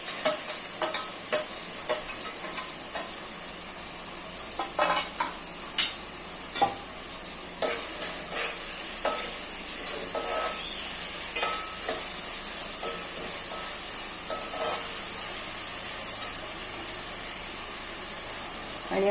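Tomato frying in a pan for a spicy Malvani-style mutton curry, with a constant sizzling hiss and repeated stirring scrapes and clicks of a utensil at irregular intervals, close and steady, no speech.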